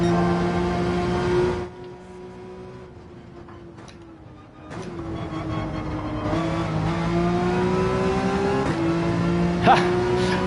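Race car engine in Gran Turismo 7 drones steadily with a strong harmonic whine, dipping briefly then rising again as it revs and shifts through gears, loud and continuous with no talk.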